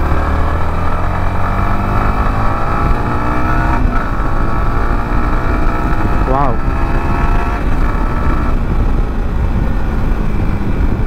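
Yamaha MT15 V2 motorcycle engine droning loudly and steadily while riding during a brake test, with heavy wind rush and someone talking over it.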